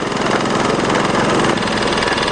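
Water well drilling rig running in a village, a loud, steady, close engine drone with a rough, pulsing chug, with no voices.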